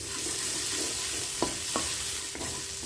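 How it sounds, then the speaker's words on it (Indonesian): Spices stir-fried in a pan with torn kaffir lime leaves for lemper ayam: a steady close sizzle with a few sharp scraping knocks of the spatula as it stirs. "Kita tumis sampai berbau harum dan juga matang."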